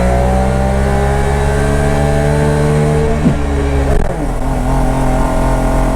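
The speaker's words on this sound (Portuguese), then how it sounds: "esse carro tá um pouquinho acelerado" A Puma GT sports car's two-stroke engine drones loudly and steadily with buzzy harmonic tones, briefly dipping and surging in pitch as it revs, close and continuous throughout.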